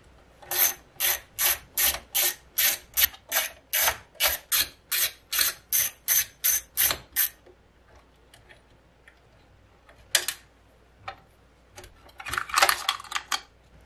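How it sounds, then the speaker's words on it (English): A quarter-inch driver zips screws out of an amplifier chassis in a rapid run of about twenty ratcheting bursts, then a few scattered clicks and clatters of loose hardware close by. "you're gonna need a quarter inch driver to get these screws out here."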